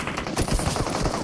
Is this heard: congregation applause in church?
no